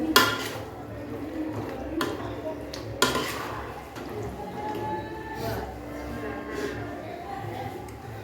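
Beans, fried eggplant and potatoes going into a simmering undhiyu gravy in a pot, with scattered clinks of a utensil against the pan and soft wet plops over a low kitchen background.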